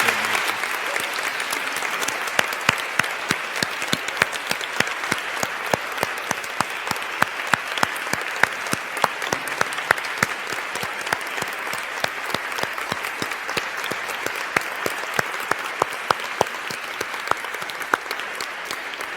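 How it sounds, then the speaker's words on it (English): Sustained audience applause after a talk: dense, steady clapping from many hands that holds at an even level for the whole stretch, with no voices over it. "can we just all give a round of applause to Sophia Hartman?"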